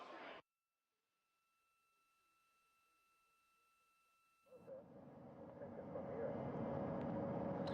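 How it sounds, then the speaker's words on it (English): Navy helicopters circle the recovered Orion capsule over the Pacific near the USS John P. Murtha. A faint, steady rotor drone rises and grows louder and broader over the final seconds, with wind around it. "we are seeing the helicopters circling Orion"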